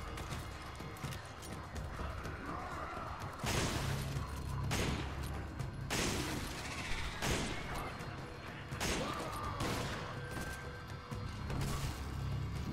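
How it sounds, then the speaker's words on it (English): Rifle shots in the video game Resident Evil 5, several loud sharp reports spaced a second or two apart over a steady background rumble, with no talk. "I'll pick him off with the rifle"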